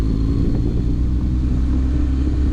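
A motorcycle rides along a neighborhood road on new tires, giving a steady, loud engine rumble and wind roar close to the rider, with no speech.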